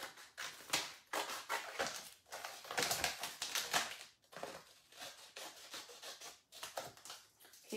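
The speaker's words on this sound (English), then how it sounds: "So we'll just trim that bit off." Paper being trimmed away from a ceramics craft project, producing continuous close rustling, rubbing and cutting sounds in irregular bursts without pause.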